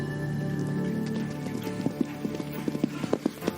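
Thoroughbred racehorses pounding along a racetrack: rapid hoofbeats build into a quick irregular drumming over a steady roar of background noise, fairly loud and close, with no voices.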